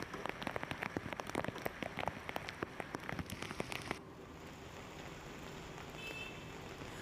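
Heavy monsoon rain pounds down on Junagadh, Gujarat, with dense, crackling drops for about four seconds, then settles into a softer steady hiss of rainfall.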